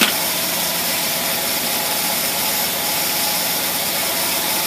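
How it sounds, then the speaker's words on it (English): An engine fitted with a Carter AFB carburetor idles low and steady, a loud, even drone that holds without change throughout and has no voices over it. "That thing idles so low right there you can almost count the revolutions on the flywheel"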